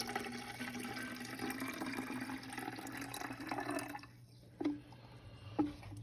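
Korean BBQ spritz liquid pours steadily into a spritzer bottle, a continuous close splashing trickle that stops midway, followed by a couple of small clinks.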